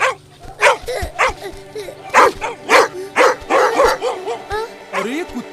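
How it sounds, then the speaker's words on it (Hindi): Several dogs bark and yip in an animated movie, loud repeated barks in an uneven rhythm with whimpers mixed in, while voices talk underneath. "अरे ये कुत्ते क्यों भौंक रहे हैं?"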